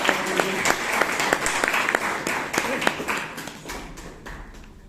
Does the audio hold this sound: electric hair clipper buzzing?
no